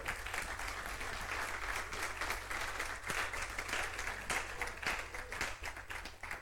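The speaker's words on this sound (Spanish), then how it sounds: "Dele palmas al Señor." A church congregation claps steadily for several seconds, a dense, even patter of many hands in a large room, moderately distant.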